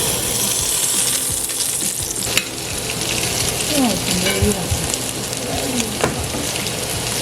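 Sliced bitter gourd (karaili) frying in oil in a pan, a constant crackling sizzle with occasional utensil clinks and scrapes, close and steady throughout.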